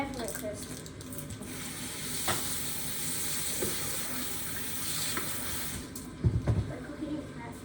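Churros frying in hot oil, a steady close sizzle and bubbling filling the whole stretch, with a few louder clatters and stirs near the end and faint talk in the background.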